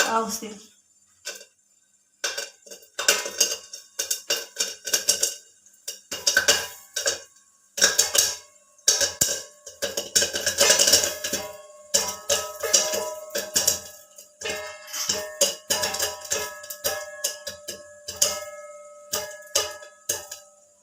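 Corn kernels pop in a covered pan on a gas stove, a dense run of sharp, irregular ticks and crackles coming close together throughout, with some voice mixed in.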